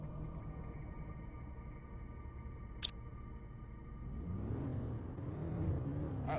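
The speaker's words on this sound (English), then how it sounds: "It's still stormy out there though." Stormy weather in the video game Planet Crafter makes a low, continuous rumble that swells into a louder gusting whoosh partway through, with one brief sharp crackle.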